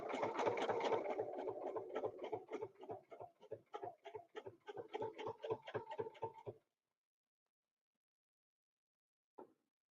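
A sewing machine stitches a quarter-inch line along a ruler, its rapid even run of needle strokes going for about six seconds, then stopping. A single short burst follows a few seconds later, close and fairly quiet.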